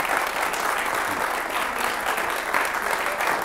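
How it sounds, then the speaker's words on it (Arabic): Applause from a studio audience of children welcoming a civil protection officer on a television program, a full, even burst of clapping sustained throughout at close range. "تصفيق عليه"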